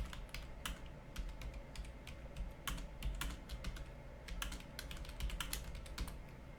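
A file name being typed on a computer keyboard: quick, irregular key clicks in short bursts, close and fairly quiet, with no talking.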